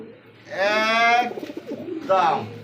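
A white Indian Bombay pigeon gives two drawn-out, close coos separated by a short pause, with a voice talking nearby.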